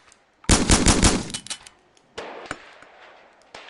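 Shotgun blasts in Gun Club VR, a virtual reality shooting game: a loud burst of several rapid booming shots, then a couple of sharper isolated reports with mechanical clacks in between.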